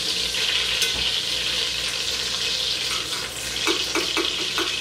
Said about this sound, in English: So right now I'm melting down my butter.